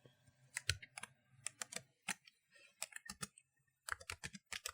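Computer keyboard keys pressed in quick clusters to enter a shortcut, crisp close clicks repeating in short bursts with brief pauses between them.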